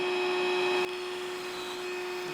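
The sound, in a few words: power drill drilling holes in deck boards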